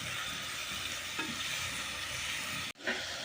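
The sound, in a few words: onions and tomatoes frying and being stirred in pan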